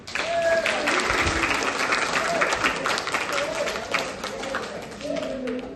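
Children at a special school clapping their hands together, a loud sustained patter of many small hands filling the room, with a voice and scattered cheers audible over it.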